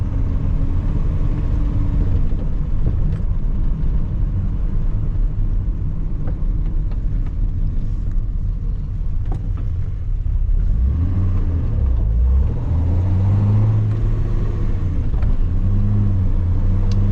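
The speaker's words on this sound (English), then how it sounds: "I'm not shifting right, so don't pay attention to that little blub blub blub right there" A Datsun 280Z with newly tuned EFI drives on the road, its engine holding a loud, steady rumble throughout, with a short uneven burble during a missed shift near the end.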